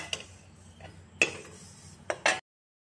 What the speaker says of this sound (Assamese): এতিয়া তিলখিনি চামুচ দি অলপ লৰাই দি আছোঁ।